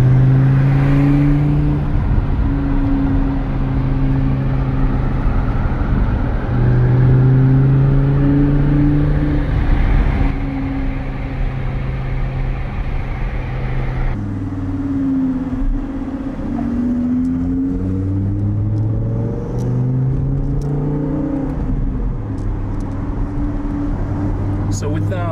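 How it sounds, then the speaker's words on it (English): An Audi R8 with an aftermarket exhaust revving in several rising and falling sweeps, a loud, throaty engine tone that swells and drops, with voices talking over parts of it. "exhaust was definitely a great addition."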